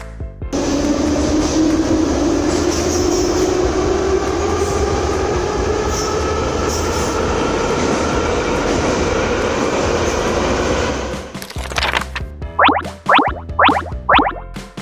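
A metro train rumbles loudly and steadily, its pitch slowly rising as it moves, then the noise drops off into a few sharp squeals and clanks.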